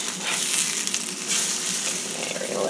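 Colcannon ingredients frying in a hot pan, a steady close sizzle and crackle running throughout with no talk.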